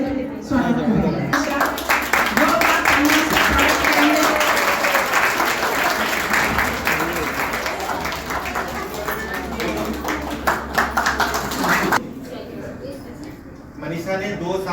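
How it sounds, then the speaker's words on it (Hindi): An audience at a hospital foundation day program applauds in welcome, sustained loud clapping from many hands lasting most of the stretch before tapering, with some talk mixed in. "आप सब उनका तालियों से स्वागत करें"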